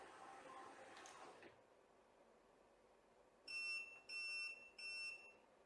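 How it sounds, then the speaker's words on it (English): Evaglide motorised curtain track motor giving three short, clear electronic beeps to confirm its open limit, each beep about half a second long, after a brief whir of the motor running. "The motor will then beep 3 times to confirm it has registered its open limit."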